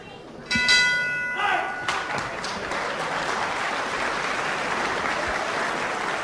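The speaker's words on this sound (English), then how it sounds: "Right on the bell now." A ring bell clangs sharply to end a round at a 1976 UK professional wrestling bout, ringing out over crowd applause and cheering that then settles into a steady hall murmur.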